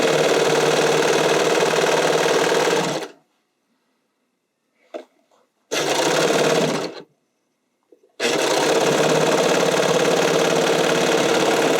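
A sewing machine stitches a spandex sleeve seam in three bursts of steady motor whir with full stops between them. The stretches between bursts are near-silent apart from faint handling.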